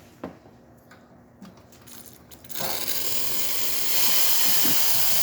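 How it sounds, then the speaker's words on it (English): An Isomac espresso machine, freshly serviced with a new water tank and gauge, opens its steam wand. After a few faint clicks, a loud, steady, high-pressure hiss starts and holds. "the steamer one definitely has a lot of pressure"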